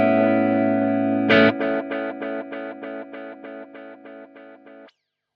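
A sustained distorted synth tone runs through an Erica Synths Echolocator delay pedal set to straight reverb and delay, then a sharp hit repeats as about a dozen evenly spaced echoes that fade steadily before cutting off.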